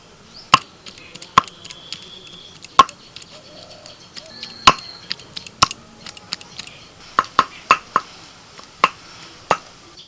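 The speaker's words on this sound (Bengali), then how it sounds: "হালকা করে আমি একটু করে নোড়া দিয়ে থেঁতো করে নিয়েছি" Soft peeled prawns are crushed to a paste with a grinding stone, each blow landing as a sharp isolated knock, about a dozen irregularly spaced strikes with a cluster near the end, close and clear over near silence.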